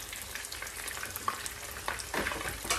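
Potato and shrimp galettes with herbs sizzle in a pan over medium heat, a close, steady crackling fry with scattered louder pops and spatters.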